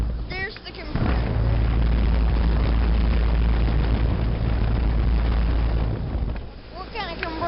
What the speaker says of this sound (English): There's the compressor.